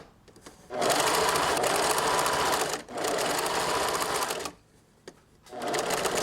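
A sewing machine stitches a bolero collar in loud, steady runs, with a brief pause near the middle and a longer stop before a final burst, barely any talk.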